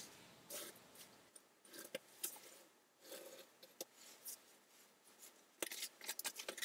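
A pencil traces around a cardboard template laid on an opened cardboard box, giving quiet scratchy strokes in short irregular bursts separated by brief pauses.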